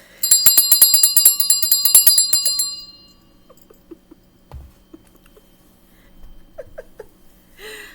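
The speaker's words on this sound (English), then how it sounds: "I love my bell." A bell rings in rapid repeated dings for about three seconds, bright and close, then stops, followed by faint scattered small sounds.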